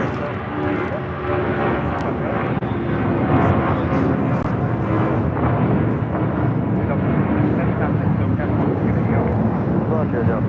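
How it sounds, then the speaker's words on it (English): A Delta Airlines Boeing 757-200 jet roars steadily down the runway on takeoff at LAX, a broad sustained rumble heard from a distance, with people talking over it. "This is Delta Airlines 677 taking off to Boston on a 757-200"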